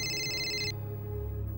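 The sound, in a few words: phone ringing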